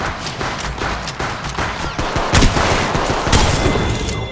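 Rapid automatic gunfire in the mobile shooter Apex Legends Mobile, with a Spitfire machine gun firing long dense bursts close up, loud and steady, with other distant shots and effects mixed in.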